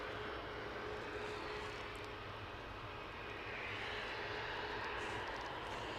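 A Ryanair airliner lined up on runway 23 left at Manchester Airport, its engines giving a steady, broad roar that holds evenly throughout at moderate distance, with no talk over it.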